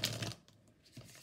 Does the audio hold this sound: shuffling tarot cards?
yes